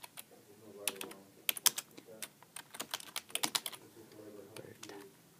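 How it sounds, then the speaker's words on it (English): Rapid typing on a computer keyboard, with bursts of crisp key clicks in uneven runs and short pauses, close and clear with no talking. "type in happy birthday"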